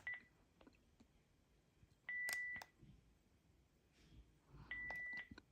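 Panasonic KX-TGJ420E cordless phone handset giving three steady electronic key-press beeps, each about half a second long, separated by quiet pauses with faint handling clicks.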